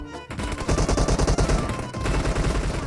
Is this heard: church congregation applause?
no